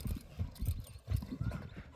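A two-year-old Karabair and Russian crossbred horse clip-clops with fairly quick, rhythmic hoofbeats, faint and somewhat distant, with no talking.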